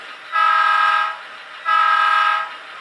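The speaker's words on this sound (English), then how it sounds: "Get the train going, and we'll go ahead and operate it." Model train horn on a layout sounding two sustained toots, each about a second long, with a quieter running hum continuing between and around them.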